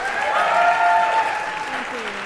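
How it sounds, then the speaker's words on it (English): Audience in a chapel service applauds the organist, a sustained wash of clapping with voices and a held sung or spoken tone over it, fading toward the end. "Would y'all give her a round of applause one more time?"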